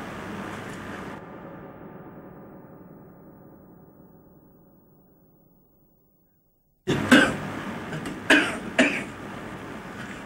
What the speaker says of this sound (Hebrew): מתאים לך שאני משתעלת?